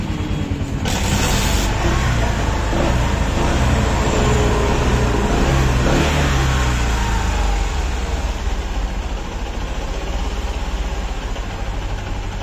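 A Bajaj Platina motorcycle with a starting problem and a head fault runs with a steady, loud, close engine drone, a brief sharper burst near the start and a slight dip in pitch midway, no talk over it.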